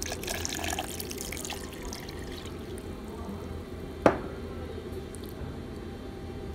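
Water poured into a blender jar over boiled potato and flour while making luqaimat dough, a steady running splash heard close and alone, followed by a brief sharp knock near the middle.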